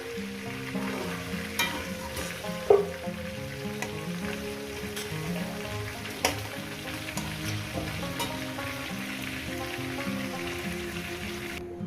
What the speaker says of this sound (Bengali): মাংসটাকে আমি ভেজে নিয়েছি এবার মাংসটাকে আমি তুলে নিই